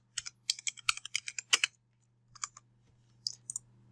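Close, crisp typing on a computer keyboard comes in quick bursts of clicky keystrokes, with a short pause and a few final taps, over a low steady hum and without speech.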